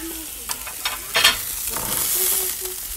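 Mushrooms fry in bubbling oil during a grilling session, a steady close sizzle with a few louder crackling bursts and stirring clatters, no talk.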